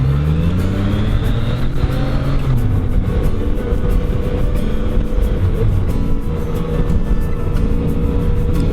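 A car drives along a road near Navarre Beach in Florida, a steady low engine and tyre drone that stays loud and even throughout, with a few gear-like pitch shifts early on and no talking.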